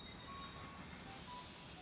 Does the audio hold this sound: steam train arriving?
yes